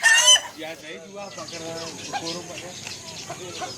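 An Ayam Ketawa laughing chicken crows close by: a loud opening call, then a long run of rapid, stuttering, laugh-like syllables in a rhythmic series.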